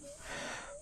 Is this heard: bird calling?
no